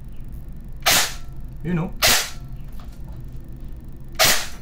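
A Daniel Defense MK18 airsoft electric gun with a moving bolt fires three sharp, loud single shots spaced about a second or two apart, with a brief voice speaking between the first two.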